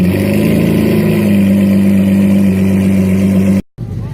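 At a Cars and Coffee meet, sports cars such as Ferraris and Aston Martins rev loudly up close, a sustained droning engine note rising in pitch before cutting off abruptly, then resuming briefly.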